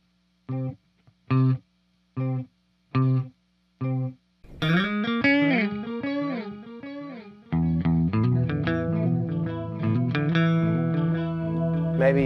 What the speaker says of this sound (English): Rock octave, we know what this is.